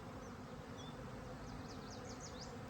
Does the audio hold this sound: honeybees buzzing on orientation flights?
yes